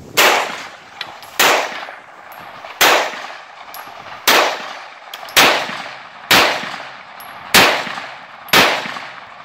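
A CZ Scorpion pistol-caliber firearm fires single shots at a shooting range, about eight loud, sharp reports spaced roughly a second apart, each followed by a short ringing tail.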